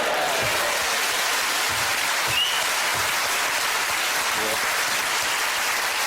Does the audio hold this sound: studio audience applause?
yes